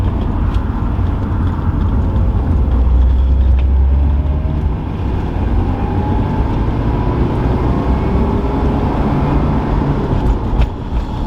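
A Porsche 944S engine runs at a steady, loud drone, its pitch slowly sweeping up as it revs, with no talking.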